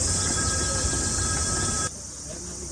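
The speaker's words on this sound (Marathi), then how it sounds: "ट्रेन जस्ट आता आली आहे कणकवली" The Konkan Kanya Express at Kankavli station gives a steady, loud rolling rumble with a faint high whine, then the noise drops abruptly to a quieter hum.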